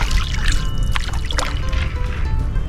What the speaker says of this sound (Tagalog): Yung mga bangus sa tingnan nyo, gumagalaw-galaw na yung tubig.